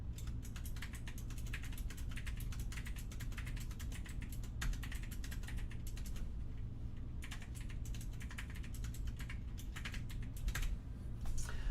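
Rapid, steady typing on a computer keyboard, a dense run of close clicks that continues with only a brief pause over a low background hum.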